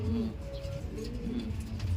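Racing pigeons coo softly and repeatedly at close range, low throaty calls over faint background noise.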